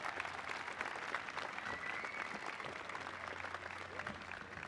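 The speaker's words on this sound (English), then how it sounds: "Class of 2025, please have a big round of applause." Steady, dense applause from a large audience greeting the graduating class of 2025 at a SUNY Maritime College May commencement, a continuous wash of clapping with no break across the whole stretch.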